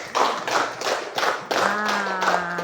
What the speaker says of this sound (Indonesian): Aplaus lagi.